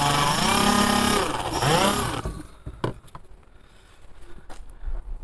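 A homemade motor built from a car alternator screams loudly for about two seconds while pressed against a piece of wood, then cuts off, leaving scattered clattering and scraping noises.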